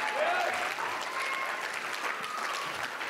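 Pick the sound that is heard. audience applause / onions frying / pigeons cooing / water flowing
audience applause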